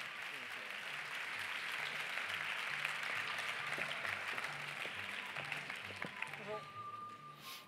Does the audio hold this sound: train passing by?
no